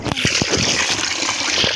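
Ten liters of water pours steadily into a hydrogel irrigation setup, a continuous splashing gush with sloshing bursts throughout, close and fairly loud.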